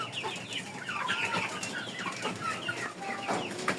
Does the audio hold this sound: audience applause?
no